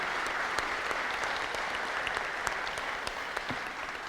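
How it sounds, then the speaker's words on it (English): An audience at a St. Louis MLS press conference applauds the Board of Aldermen, a steady wash of many hands clapping at moderate distance with a few sharper individual claps standing out, no speech over it. "Let's give them a round of applause."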